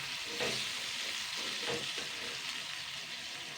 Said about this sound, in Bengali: 2 মিনিট মতন নেড়ে চেড়ে নেবো এক এক করে।